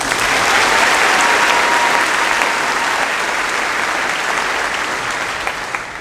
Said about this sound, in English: Please give our distinguished guests another round of applause